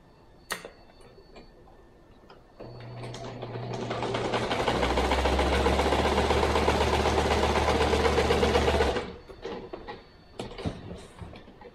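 Sewing machine stitching a piece of a stuffed hooved-animal body, starting with a few soft handling clicks, then a steady mechanical whirring run of several seconds that cuts off and gives way to more light clicks.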